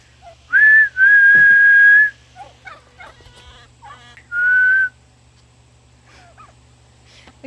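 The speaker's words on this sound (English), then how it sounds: "Like if I whistle," Person on a farm whistling a call for the chickens: a sustained whistle, a brief break, a longer held note, then a shorter final whistle, loud and close, with faint clucks between.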